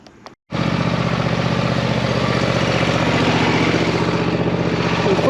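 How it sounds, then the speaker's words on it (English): A small lawnmower engine starts abruptly and runs at a steady, loud, close idle with a rapid chugging rhythm, warming up before an oil change. "you want to just run the engine for a little bit till it gets warm"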